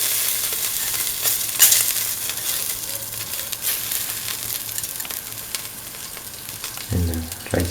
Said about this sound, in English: Put in the fennel seeds and the peppercorns.